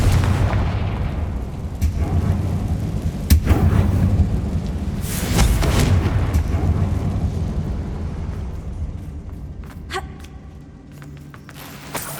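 A Confringo fire spell in Hogwarts Legacy erupts inside a closed mine, releasing several loud, booming blasts that roll and echo before trailing off into quieter rumbling and debris.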